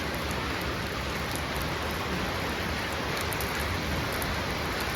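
Steady, loud rain pours down in an outdoor setting near a night market, a dense continuous hiss with no pauses and no voices.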